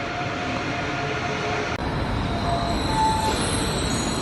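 An ICE high-speed train runs between Frankfurt and Berlin, heard from inside as a steady, loud rolling rumble with a faint high whine.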